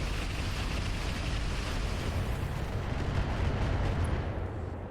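Sustained heavy weapons fire pours onto a Stinger mech in RogueTech, a dense, continuous roar of booming, crackling blasts that stays loud throughout and tapers slightly at the end.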